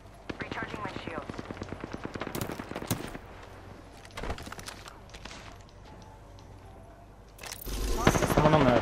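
Rapid bursts of video game gunfire strike the player's character, loud and rhythmic at first, then scattered impacts and a heavier crackling burst near the end, with a player's voice at times.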